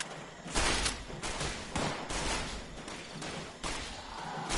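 Gunfire in the video game Fallout 76, heard as rapid bursts of shots and thuds in repeated waves, moderately loud and steady with no voices.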